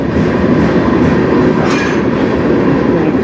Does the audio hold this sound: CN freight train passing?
yes